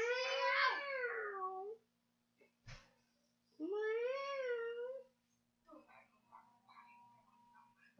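A cat gives two drawn-out, loud, close meows separated by a pause, then some fainter, shorter sounds in a quiet indoor room.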